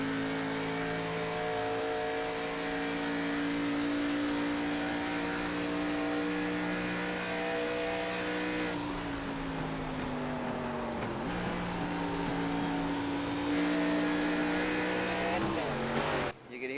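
Race car engine at Pocono Raceway in iRacing, a loud steady simulated engine drone that drops in pitch on downshifts and climbs again on upshifts, with a brief squeal near the end.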